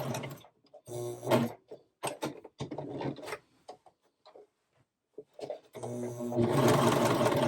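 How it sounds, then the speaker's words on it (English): A sewing machine stitches through layers of crew neck sweatshirt fabric in short, stop-start bursts of rapid ticking, then settles into a longer continuous run at the end. "make sure you're only sewing through the layers"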